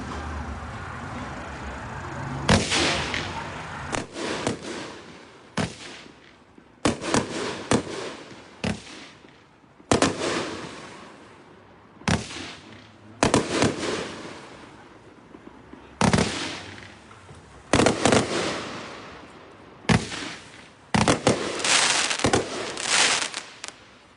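A Vikings Vengeance firework cake fires at a 2023 fireworks demo shoot, sending loud, close volleys of bursting shots in repeated clusters separated by short pauses, with no talking.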